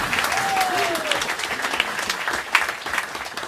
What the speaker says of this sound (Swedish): Och då måste Johan ha en extra applåd som har stått ut med mig i 20 år.